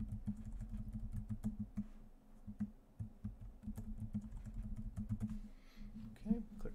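Someone types an administrator password on a computer keyboard, a run of soft, quick clicking keystrokes in uneven bursts, quiet and close, over a low background hum.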